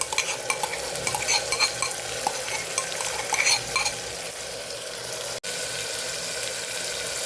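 Garlic chutney and water go into tomatoes frying in a pan, bringing a loud, steady sizzle with a stirring scrape and liquid hiss, broken by one brief sharp cut near the end.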